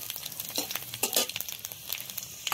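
Dried red chilli and five-spice seeds sizzle and crackle in hot mustard oil, a crisp frying hiss with sharp pops and stirring scrapes, close and loud with no talking.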